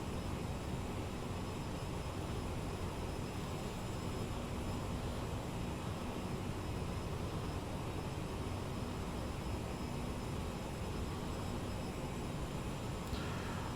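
Steady, even roar of Aerosoft CRJ airliner jet engines at cruise in Microsoft Flight Simulator 2020, a constant broadband drone that fills the whole stretch with no talk.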